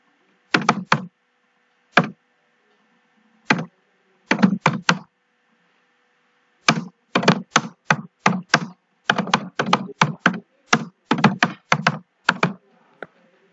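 Crisp keystrokes on a computer keyboard typing capital-letter text into a Windows text document, coming in quick irregular bursts and single taps with short pauses, close and clear with no talking.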